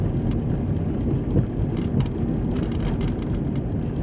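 A car approaching at night through a dark compound, heard from inside a moving van as a steady, fairly loud low engine and road rumble that holds evenly throughout, with no voices.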